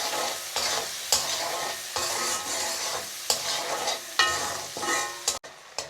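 Chopped onions fry and sizzle in hot oil, with steady hissing broken by repeated stirring scrapes at a fairly even rhythm, close and alone without any voices.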